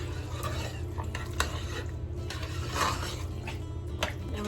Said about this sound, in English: And mash again, add a little cream, or half and half.